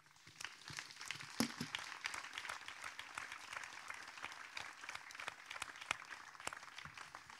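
An audience at an evening talk on climate change keeps applauding its guests, a dense, even patter of many hands, soft and distant throughout.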